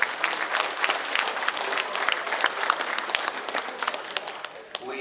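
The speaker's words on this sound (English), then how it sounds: "let's give the staff here a big round of applause for the awesome meal." Sustained, dense applause from an audience at the opening ceremony of a Blackfoot language symposium, honoring the staff after a meal. It holds steady at a lively level for the whole stretch before easing slightly at the end.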